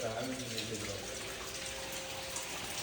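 Water pours steadily from a pipe onto a steel-framed Buddha statue, a continuous splashing gush that runs the whole time at moderate level, with faint voices in the background.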